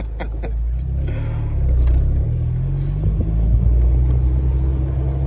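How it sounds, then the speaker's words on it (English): A big-turbo VW GTI Mark IV pulls hard from inside the car, its engine a deep, constant rumble and drone that swells slightly under load, loud and close with no break. "Thing screams like a banshee. That's that big turbo setup."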